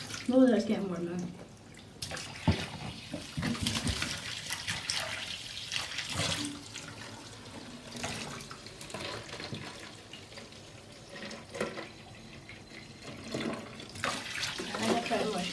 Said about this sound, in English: We'll put the tap on for a wee bit longer because it gives a chance to heat up.